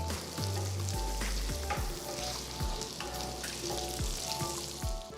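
Cumin seeds crackle and sizzle in hot oil in a pan for street-style pav bhaji, a steady frying hiss punctuated by sharp pops and occasional stirring clinks, close and fairly quiet with no talking.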